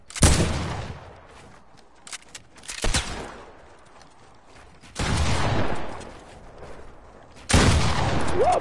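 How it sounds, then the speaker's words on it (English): Fortnite gunfire crackles in separate bursts, with a sharp volley at the start, two brief shots near the middle and two longer sustained rattles later, each loud and close. "there's a dude behind me shooting me"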